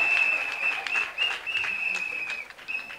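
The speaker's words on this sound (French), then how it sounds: "Est-ce qu'on peut acclamer très fort pour elles?" A crowd at a political rally applauding and cheering for the women of the North at an investiture event for President Laurent Gbagbo, a rippling clapping wash under a sustained high-pitched ululation-like tone, with voices mixed in.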